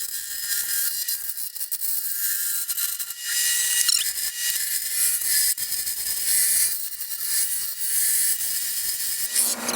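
Wood lathe roughing out a blank with a carbide-tipped tool: a continuous loud, harsh scraping hiss close by, with small surges and dips as the cutter bites the uneven spinning wood, no voices.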